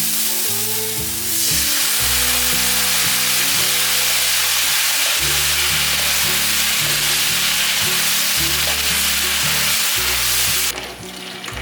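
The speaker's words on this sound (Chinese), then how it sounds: "酱油半茶匙，再转中小火把调味料炒匀" Seasonings with soy sauce stir-fry in a pan over medium-low heat, giving a loud, continuous sizzle with scraping stirs, alongside a steady low tonal background.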